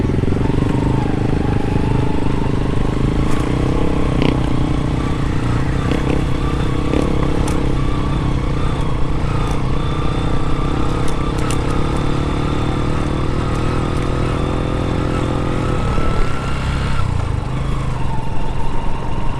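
A motorcycle engine drones steadily up close throughout, with rattling and clatter from a bumpy road ride in Sabang, Vinzons, Camarines Norte, and a brief dip in revs near the end.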